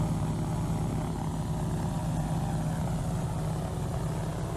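A KLM heavy airliner, a 747 or 777, in Flight Simulator X: a steady, loud jet engine drone with a broad hiss and low hum, unchanging throughout.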